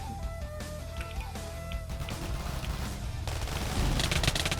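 Rapid gunfire in the Minecraft video game, dense fusillade-like bursts over loud continuous game sounds and music, intensifying toward the end.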